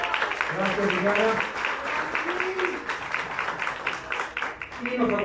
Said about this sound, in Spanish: un aplauso para Lili